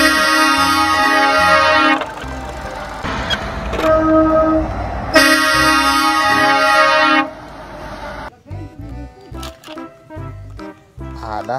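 A container truck's horn sounds loud and close in two long, steady honks separated by a short gap, followed by a voice talking.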